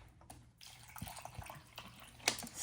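A brief, quiet pour of water into sugar and lemonade mix in a home kitchen, with soft trickling and a small splash near the end.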